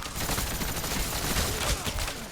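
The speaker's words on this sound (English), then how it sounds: "And buddy pulled out the M60. It's just firing downrange." An M60 machine gun in a multiplayer capture-the-flag match on a Havana map fires downrange in a continuous, dense stream of rounds, loud and close, with no pauses across the whole burst.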